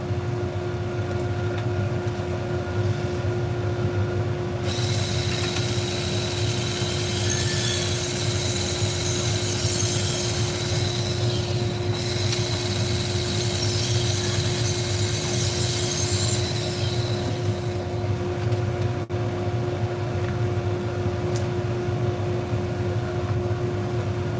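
A nicked knife blade is ground on a power sharpener: a steady motor hum runs throughout while two long, loud, rasping grinding passes sweep across the middle, followed by a shorter pass near the end, with no talking.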